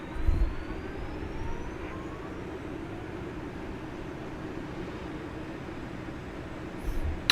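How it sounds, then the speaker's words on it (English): A CH-47 Chinook helicopter, a faint steady low engine drone that stays even throughout, distant and unbroken, with a couple of brief knocks at the start and end. "Yep, CH-47 Chinook."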